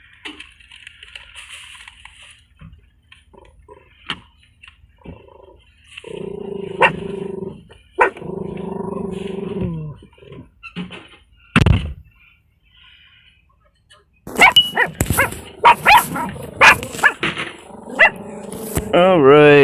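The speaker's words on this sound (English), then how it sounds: "Hopefully it won't be too loud with those doggies barking" Several dogs bark in a burst of loud, rough yelps near the end, after a stretch of quieter talking in the background, on a morning while convoy cars are being readied.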